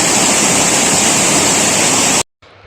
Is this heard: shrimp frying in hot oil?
no